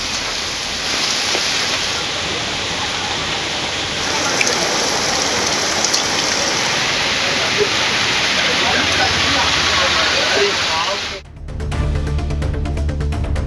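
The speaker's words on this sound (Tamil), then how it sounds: "1 மணி நேரத்திற்கு மேலாக கனமழை கொட்டி தீர்த்தது" Heavy rain pours down steadily in Tamil Nadu, a dense, loud, unbroken hiss and roar of water that lasts more than ten seconds before it cuts off abruptly near the end.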